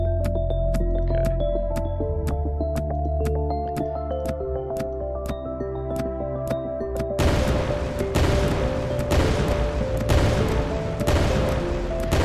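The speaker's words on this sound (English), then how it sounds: "I've had a lot of these pumpkin cannons, and it's so satisfying to hear them all going off like boom, boom, boom" Pumpkin cannons in the video game COGG fire over and over in a rapid, regular stream of sharp clicks and pops over game music, then heavier booming blasts take over in a loud, steady rhythm; no talking.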